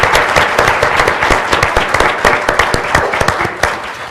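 An audience at a law school MLK convocation applauds the organizing committee, a close, lively patter of many hands clapping steadily for about four seconds before easing off.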